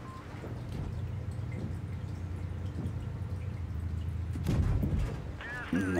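Tank cannon fire in World of Tanks Blitz, an E-75 heavy tank battle: a steady rumbling battle bed with a sharp, loud blast near the end, followed by a brief bright game tone.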